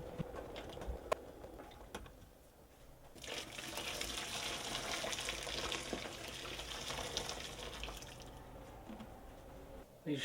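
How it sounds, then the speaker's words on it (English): Peaches for canning simmer gently in a pot, giving a steady low bubbling and sizzling hiss that swells in the middle and eases off, with an occasional stir and faint clink, no voices. "That's what I like to see, just a light simmer like that."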